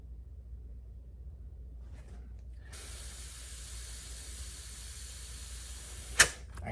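Pressurised air hisses steadily from a bolt on a Ryobi CS30 string trimmer, a continuous broad hiss that starts a few seconds in over a low background hum, with one sharp click near the end.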